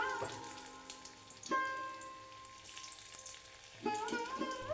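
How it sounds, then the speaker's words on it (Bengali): Chopped ginger fries in hot refined oil in a wok, a soft, fairly quiet sizzle with sharper bursts of spitting near the start, middle and end. "কড়াইতে রিফাইন্ড অয়েল দিয়ে দিয়েছি, গরম হয়ে যাওয়ার পরে দিয়ে দিলাম একটু আদা কুচি।"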